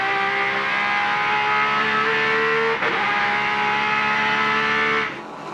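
A Porsche race car engine with a 6-speed gearbox screams at nearly 9,000 rpm close by, its pitch dropping briefly as it shifts gear, then climbing again before cutting back at the end, during a sports car race.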